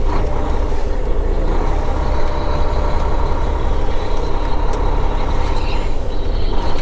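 A truck pulls off the road to park for the night, a steady loud engine drone holding throughout with faint higher hiss and clatter.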